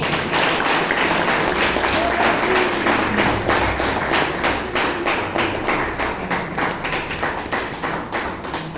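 Applause from the audience at a Bangalore Toastmasters meeting fills the room as a dense, continuous roar of many hands clapping, loud and sustained for several seconds and slowly easing off toward the end.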